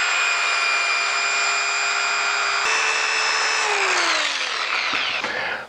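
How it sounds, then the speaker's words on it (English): A wooden turned piece being sanded on a lathe: a steady, loud whining drone with tonal harmonics that holds for several seconds, then dips in pitch and winds down at the end as the spin slows. "I'm just going to kind of sand it down, see if I can make it look a little bit better"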